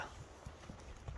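Horse hooves clip-clopping as the horse walks, several uneven thuds in quick succession over low background noise, fairly faint.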